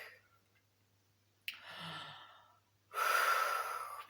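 A deep breath drawn during a balance exercise session: a short inhale near 1.5 seconds, then a longer, louder exhale that trails away, breathy and close, with no talking.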